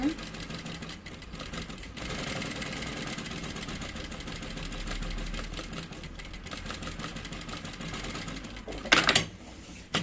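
Sewing machine stitching close along the edge of a fabric lining on a double baby-bottle holder, a steady mechanical whir running throughout with a brief louder burst near the end; a voice talks over it.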